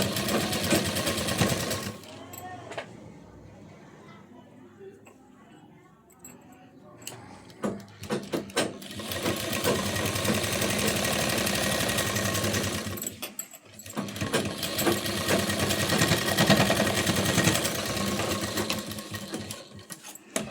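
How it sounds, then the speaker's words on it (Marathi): A sewing machine runs in long bursts while stitching the fitting seams of a blouse, its steady mechanical hum broken by pauses where someone speaks between runs. "इथे मी एक एक शिलाई दिलेली आहे"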